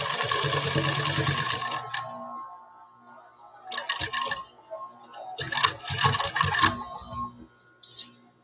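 A high speed sewing machine runs in short, loud bursts of rapid mechanical chatter separated by quiet pauses, heard up close.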